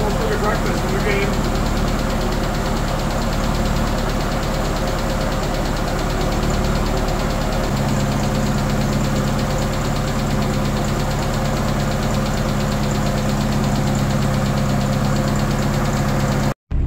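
A 1985 Toyota Tercel engine idles steadily while warming up, a loud, close, continuous rumble with a slight shift in tone about halfway through that cuts off abruptly at the end.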